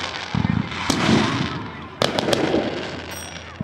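Fireworks bursting at the Frankford Riverfest 25th anniversary in Quinte West, with a few loud sharp booms and crackling tails over crowd chatter.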